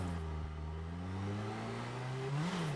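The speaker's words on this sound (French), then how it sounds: "Mais écoutez ce moteur." Car engine in the driving game Drive Beyond Horizons, a smooth humming motor whose pitch climbs steadily as it revs, rising sharply near the end, heard alone and fairly quiet.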